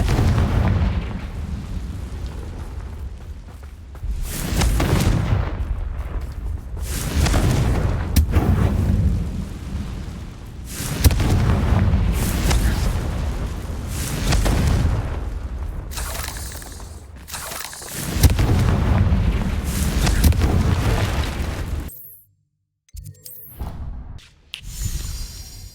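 Confringo blasting-spell explosions in Hogwarts Legacy come as a series of loud booming bursts with whooshes and debris, separated by short gaps, before a sudden near-silence and a few scattered hits at the end.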